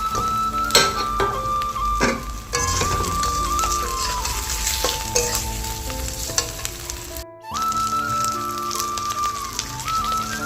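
A rohu fish head and fish pieces sizzle and fry in a pan, a loud, steady crackling hiss with occasional stirring clatters and a brief break before the sizzle resumes.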